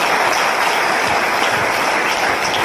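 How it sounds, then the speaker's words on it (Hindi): Loud, steady applause from an audience at an AWPL network-marketing business seminar, a dense continuous wash of clapping with no talk over it. "तो मैं चाहूंगा एक बार जोरदार तालियां एसटीपीएस के लिए"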